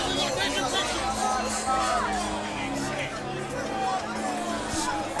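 A crowd at a WXC mixed martial arts fight event in the Mike Hernandez versus Johnny Bedford bantamweight belt bout buzzes with steady chatter and cheering, while commentators talk over the noise.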